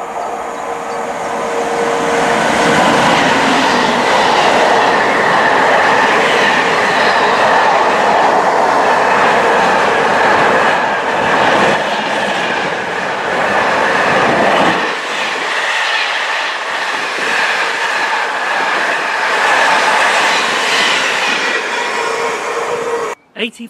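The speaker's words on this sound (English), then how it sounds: "So there's an 8-coach train out of Hartford, just about to leave." An eight-coach passenger train leaving Hartford rumbles steadily along the rails nearby, with rhythmic clatter and a high metallic whine, loud throughout before fading near the end.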